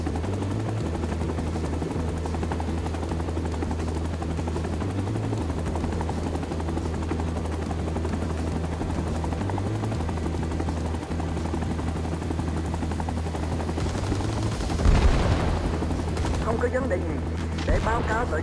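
A UH-1 Huey helicopter in the Vietnam War video game Rising Storm 2: Vietnam drones with a steady, loud rotor and engine hum throughout, and a sharp burst of nearby gunfire breaks through near the end.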